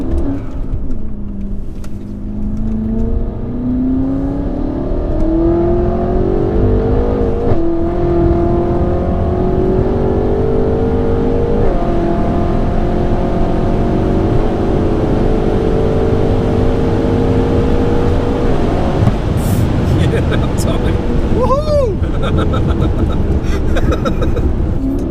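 A 1000 bhp BMW M5 accelerates hard on a night drive, its engine climbing through long rising pulls with breaks between gears, loud and close from inside the car, briefly joined near the end by faint voices.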